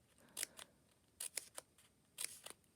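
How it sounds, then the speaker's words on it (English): Scissors snipping a folded paper strip into a quilling fringe: three quiet bursts of two or three crisp cuts each, close and isolated against near silence. "I'm cutting my fringe on the fold"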